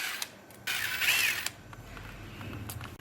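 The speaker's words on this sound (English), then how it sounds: "Use an M8 socket to remove the 3 mounting bolts of the front fender." An M8 socket wrench ratchets on the front fender mounting bolts of an Xpro DB-K005 / K1-110 (X15) motorcycle, with brief close clicking and a creaking turn, alone and fairly quiet.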